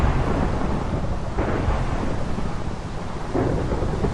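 Heavy rain and rolling thunder from a Minecraft storm form a loud, continuous roar, with faint swells of rumble rising and fading in the steady downpour.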